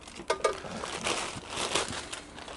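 A plastic bag crinkles and rustles as a Campmaid grill kit is unboxed, soft, close crackles with a few sharper crunches early on, then steadier handling noise with no talk.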